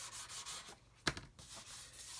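Coarse sanding stick rubbed over a plastic model aircraft part, a soft raspy scrubbing with one sharper stroke near the middle, close and fairly quiet with no talking.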